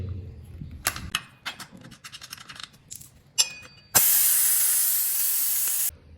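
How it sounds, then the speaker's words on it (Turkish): Air hisses loudly out of a motorcycle tire valve on a Mondial Drift front wheel, a steady near burst lasting about two seconds after some scattered clicks and scrapes of handling the valve cap. "Sibop kapağını açıp lastiğin havasını indirelim."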